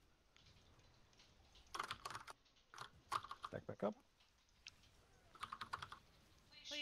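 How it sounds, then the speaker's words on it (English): A computer keyboard is typed on in bursts of rapid clicking during a World of Warcraft raid, close and fairly loud, while a voice briefly speaks. "Please shut the keyboard up."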